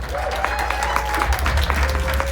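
Audience at a local comedy show in Polar Park Brewing applauding a comedian, a dense steady patter of clapping from a small crowd under a low hum, with some voices mixed in.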